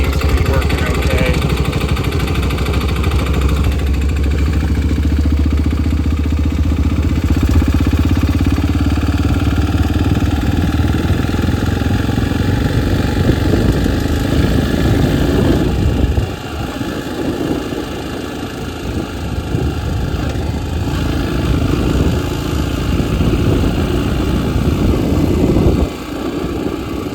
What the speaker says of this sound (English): So far the bike is rideable at idle.